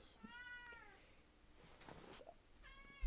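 A house cat meows twice up close, a drawn-out rising cry, a pause with faint rustling, then a second meow, with no talk over it.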